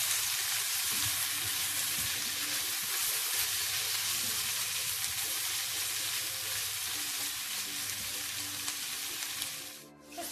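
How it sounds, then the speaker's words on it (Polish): Sliced mushrooms frying in a pan for a bigos, a steady close sizzle that runs unbroken for about ten seconds before briefly dipping near the end. "Teraz dodajemy do tego pokrojone pieczarki. Też dodać troszeczkę soli"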